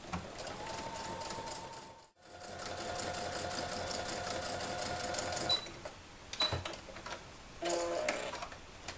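A sewing machine stitching a strap onto a zipper bag, a steady close mechanical whir that pauses briefly, runs again, then breaks into short bursts and clicks near the end; no talking.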